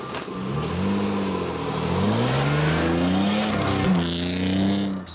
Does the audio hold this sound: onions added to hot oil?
no